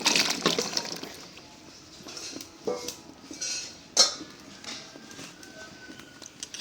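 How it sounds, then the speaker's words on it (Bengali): Bottle gourd pieces tipped into a karai cooking pot with water: a clattering metal knock, then scattered softer clinks and splashy thuds at close range, fading into quieter kitchen noise. "দিয়ে দিলাম লাউ"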